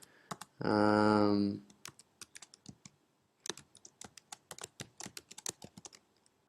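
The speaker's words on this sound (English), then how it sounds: "Now it wants to make sure that I'm not a robot, so I have to type in these letters." Letters for a captcha are typed on a computer keyboard as a run of crisp, close key clicks in quick uneven bursts, after a brief spoken word.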